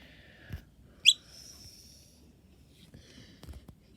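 A noisy miner fledgling, a wild young bird, gives a sharp high chirp near the start, followed by a few fainter squeaky calls against quiet background rustle.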